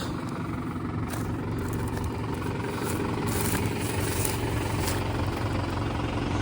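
A seeder sowing green manure in a field runs with a steady, dense engine drone and mechanical clatter. The sound is even and constant, with a few faint knocks.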